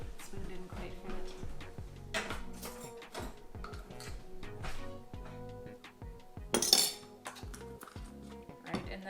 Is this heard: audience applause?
no